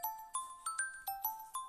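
Phone ringtone for an incoming call, a bright repeating chime pattern of short tonal notes about every quarter second, fairly quiet and alone with no talk.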